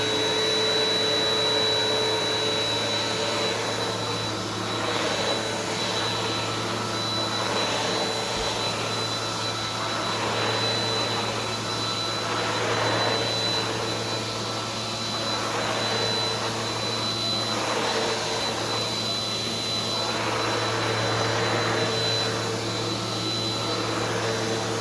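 A Bissell PowerForce Compact upright vacuum cleaner runs steadily and loudly throughout, with a constant whining motor drone and airy rush that never stops.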